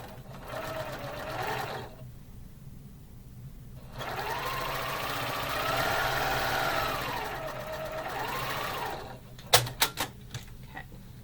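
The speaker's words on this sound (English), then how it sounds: "You're just sewing a 1/4 inch seam" Sewing machine stitching a quarter-inch seam on quilt block pieces: two bursts of fast, steady whirring, the second longer with the speed rising and falling, close up, then a few sharp clicks at the end.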